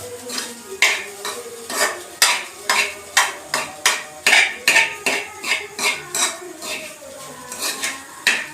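A metal spoon scrapes and clanks rhythmically against a pan while egg fried rice is stirred, about twenty loud close strokes in a steady beat with a faint sizzle underneath.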